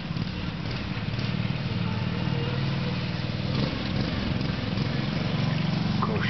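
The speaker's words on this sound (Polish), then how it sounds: "Kosiarka?" A lawn mower drones continuously at moderate volume for about six seconds, a steady, unbroken motor hum with no voices over it.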